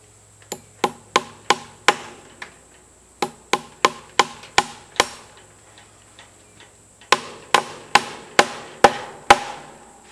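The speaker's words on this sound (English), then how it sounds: "Now just take you a couple of fence staples and secure down at the bottom where you've already tightened the fence." Hammer driving fence staples into a wooden fence post, sharp ringing blows in quick bursts of five or six evenly spaced strikes, three groups in all, loud and close with short pauses between groups.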